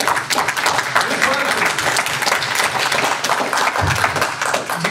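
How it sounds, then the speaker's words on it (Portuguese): Congregation applauding inside a church during a worship service, a dense, steady wash of many hands clapping throughout, with a brief low thump near the end. "Dê um aplauso para Jesus."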